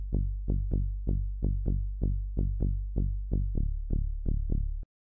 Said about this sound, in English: so next sound here is this bass, which sounds like this.